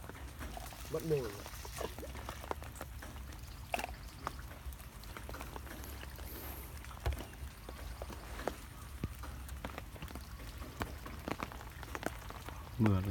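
Rain patters steadily over a wild pond that has been left untouched for 20 years, a soft continuous wash of drops with scattered sharper taps, alongside occasional brief voices during a fishing outing.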